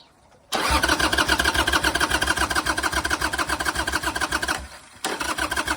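A Harley Davidson motorcycle engine cranks without catching: a fast, steady starter churn runs for about four seconds, stops briefly, then resumes, loud and close with no talking.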